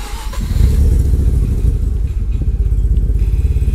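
Mazda RX-7 FC3S rotary engine with new NGK spark plugs cranking and catching, then settling into a loud, lumpy, pulsing idle close by.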